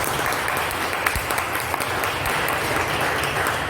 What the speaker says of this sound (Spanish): Un aplauso para Welmer.